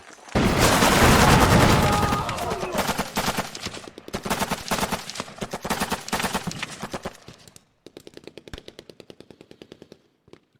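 Rapid machine-gun fire rattles through a Lock 'n Load Tactical game battle in Vietnam's Chin Dhuc area, a dense loud burst at the start, then repeated staccato volleys fading to lighter, quicker stutters toward the end, with no talking.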